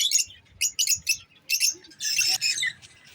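Lovebirds and Java sparrows in a breeding cage chirp in short bright bursts, a few sharp calls then a longer squawking trill near the end, fairly close with quiet gaps between.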